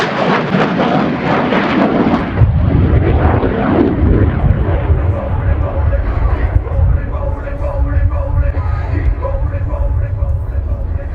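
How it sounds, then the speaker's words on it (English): A US Air Force F-16 Viper fighter jet flying a display at RIAT 2019, a loud, deep roaring jet rumble that swells and thunders overhead, partly under an announcer's commentary. "accelerate rapidly and snap the F-16 through a series of aileron rolls, demonstrating its exceptional roll maneuverability"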